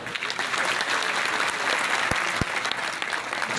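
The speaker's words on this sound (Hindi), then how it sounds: "जोरदार तालियां।" People at a Kori community gathering clap loudly, a steady burst of applause with a couple of sharp thumps near the middle and murmuring under it.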